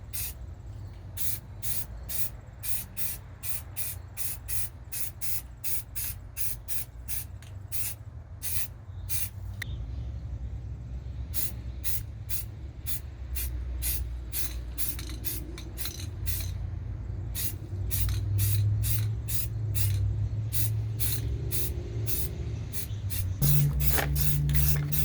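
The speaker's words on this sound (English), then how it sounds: "Our trusty old Rust-Oleum primer, filler primer, and let's hit it." A can of Rust-Oleum filler primer sprays on a Nissan 300ZX body kit in many short, sharp hissing bursts, fairly close. The bursts come in quick runs separated by brief pauses, with faint background hum between them.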